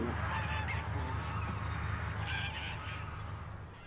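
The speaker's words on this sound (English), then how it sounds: "Presumably these geese are here overnight." Geese honk repeatedly in a noisy flock, the calls overlapping against a broad rushing background.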